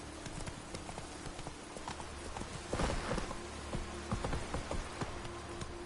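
A horse gallops in The Witcher 3 video game, rapid rhythmic hoofbeats pounding steadily and close, with a brief louder swell midway and light ambient noise.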